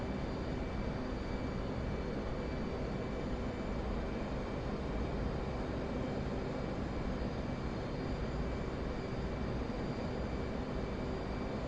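An F/A-18 Hornet jet landing in the DCS flight simulator, heard as a steady, loud engine roar with a constant tonal whine. The drone holds without break and no one talks.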